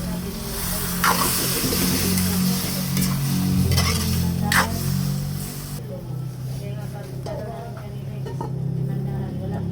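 Squid sizzles and fries in a hot pan with a little water added, a steady crackling hiss running throughout, with occasional stirring noises and faint background voices.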